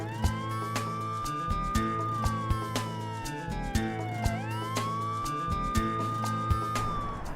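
An ambulance siren wails in slow rising and falling sweeps, loud and steady, over a rhythmic musical backing with regular beats.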